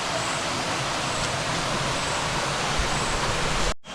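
A stream rushes right beside the dining area of a budget homestay in Kallar near Ponmudi, a loud, steady, close broadband flow that cuts off abruptly just before the end.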